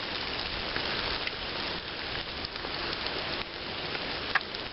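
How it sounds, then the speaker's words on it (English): Steady rain pours down outdoors, a dense, continuous hiss with occasional louder drops spattering close by; no one speaks. "the way that rain's coming down out there"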